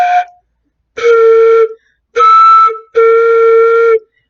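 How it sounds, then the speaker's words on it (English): Flute tones made by blowing across the embouchure hole sound as four loud, breathy held notes, each lasting about half a second to a second, separated by short silences and varying slightly in pitch. "You can blow across it, not into it."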